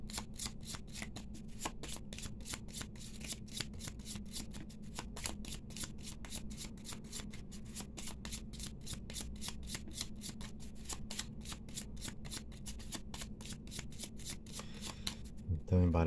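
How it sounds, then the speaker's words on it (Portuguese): A deck of tarot cards is shuffled in a long, steady run of crisp riffling flicks, close and fairly quiet, ending in a louder shuffle at the end. "Então embaralhei as cartas"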